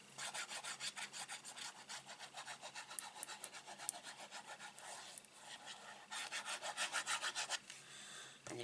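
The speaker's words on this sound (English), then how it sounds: "You can just give it a burnish." Layered cardstock on a handmade infinity card is burnished by hand, a quick run of soft, rhythmic rubbing and scraping strokes, close and faint, that pauses briefly and then resumes in a faster burst.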